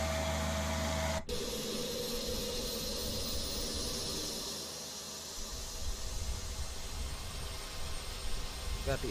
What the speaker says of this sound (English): We're going to power on and we'll start the APU.